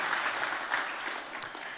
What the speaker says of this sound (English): would you give Athens a round of applause?